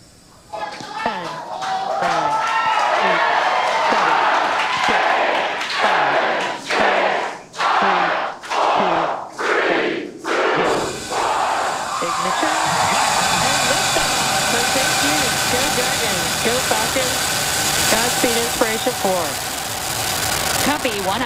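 A rocket launch for the Inspiration4 mission: a deep roaring rumble that swells and stays loud and continuous, while radio voices call out the countdown and flight status over it.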